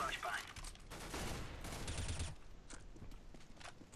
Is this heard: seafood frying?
no